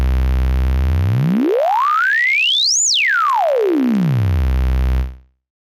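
Saw wave run through a Frequency Shifter in FL Studio on its 20 kHz range, a loud buzzing synth tone sweeping smoothly up to a piercing peak and back down, then cutting off abruptly.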